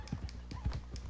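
A horse's hooves clip-clop in a quick uneven rhythm in Red Dead Redemption 2 Online, close and moderately loud over a low rumbling game background, with a faint whinny-like tone in the middle.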